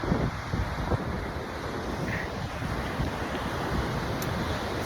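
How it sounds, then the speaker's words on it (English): Fierce ocean surf on the Oregon coast, heard from about forty feet away, makes a steady, broad roar mixed with wind buffeting the microphone. The sound stays even and unbroken throughout, with no voices. "These waves are very fierce."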